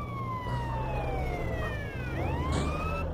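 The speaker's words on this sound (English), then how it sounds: "The siren works so well, too." A police car siren in the GTA San Andreas video game wails in steady rising and falling sweeps, loud and continuous over a low engine rumble.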